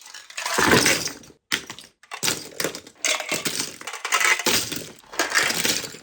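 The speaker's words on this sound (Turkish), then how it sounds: "Tüm kalemlerimi, her şey bunun içine boşaltılacak." Pens tumble and clatter in several bursts, hard plastic objects rattling against each other, with short gaps between pours.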